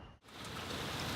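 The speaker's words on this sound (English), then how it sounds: "As you can see, it's raining." Rain falling outside a house, a dense steady hiss of drops on surfaces that cuts out for a moment and then swells back, close and continuous with no talk.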